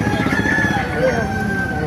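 A rooster crows over a busy, noisy background, its call blending with a steady murmur of other sounds throughout.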